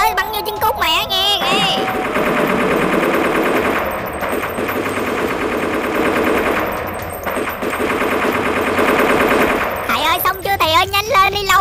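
Rapid machine-gun bursts in a Minecraft animation, loud and sustained for several seconds with brief pauses, framed by animated character voices at the start and end.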